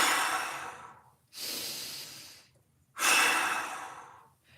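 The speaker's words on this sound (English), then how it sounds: "Now take 2 big breaths." Three deep breaths taken during a floor stretching exercise, hips lifted with heels pressed into the ground: long, airy inhale-exhale swells, close and fairly loud, with short pauses between them and no talking.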